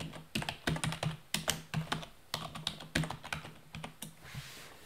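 Keys clatter on a computer keyboard while a SQL query is typed, a close, quick run of uneven keystroke bursts with short pauses and no voices.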